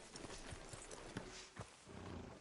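Horse hooves clip-clopping in Red Dead Redemption 2, a quiet, steady run of hoofbeats over a constant background wash, with a few slightly louder knocks and no voices.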